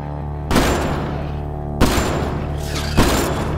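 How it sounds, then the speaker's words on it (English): Gunfire in the video game Mass Effect Andromeda, played on PS4 Pro: three loud, sharp shots spaced about a second apart, each with a ringing tail, over a steady game soundscape. "just run in front of my gunfire"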